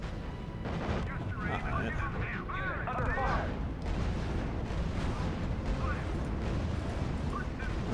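Dense battlefield gunfire and artillery from units firing at a StuG in the strategy game R.U.S.E., Kasserine Pass campaign, a steady rumbling barrage of shots with a brief spoken word over it.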